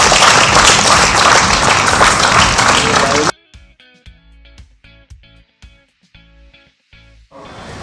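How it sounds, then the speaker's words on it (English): An audience at a TED talk event gives loud, dense applause for about three seconds before it cuts off abruptly, followed by quieter sounds and a voice. "So the biggest round of applause for Chris and Uday Sahab."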